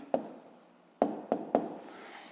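A pen writing out an answer by hand on paper during a 7th-grade physics exercise: four short, sharp tapping strokes, close and fairly quiet, with a brief scratch between them and no voice.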